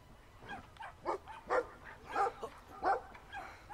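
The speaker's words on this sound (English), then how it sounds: "Is that a dog?" A small dog in the video game Brothers gives a run of short barks and yips, fairly quiet and a little distant, spaced about half a second apart, with no voices over it.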